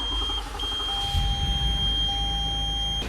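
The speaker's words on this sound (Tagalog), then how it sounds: "Yung buzzer pala dun sa bumper" A buzzer mounted in the front bumper of a Toyota Avalon emits a steady high electronic tone that continues almost without a break, with a second lower tone joining partway through over a low rumble from the idling engine.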